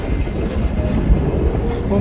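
Trenino Verde tourist train running through the Sardinian countryside, a steady rumbling roll with low thuds of the wheels, heard from aboard, continuous and fairly loud throughout.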